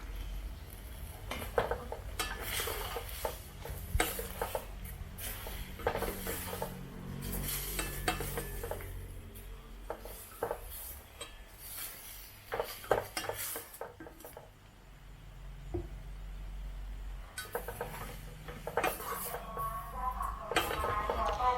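Zucchini with egg and minced chicken stir-fried in a pan, with steady scraping and clattering of a spatula against metal over a soft sizzle, the strokes coming in irregular bursts with brief pauses.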